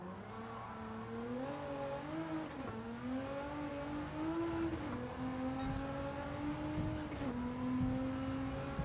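Race car engine in Gran Turismo 7 at the Tokyo Expressway, an A110 with a GT-R engine swap, droning loud and steady as the pitch drops under braking into a hairpin, with brief gear-change dips and no talk.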